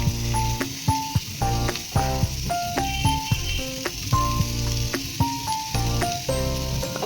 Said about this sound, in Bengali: এখানে আছে নারকেল আর নতুন গুড়, দুটোকে ভেজে নেব।